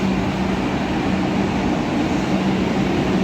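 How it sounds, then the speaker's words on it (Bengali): Purple Line metro train pulling into a station on the Majerhat to Joka route, a steady loud rumble with a low hum holding throughout, no voices. "দেখুন আমাদের ট্রেন চলে এলো"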